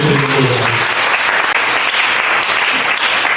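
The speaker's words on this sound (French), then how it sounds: "Applaudissez pour le Seigneur." Congregation applauding during a French-language church sermon, steady dense clapping throughout, loud and close, with faint voices briefly audible at the start.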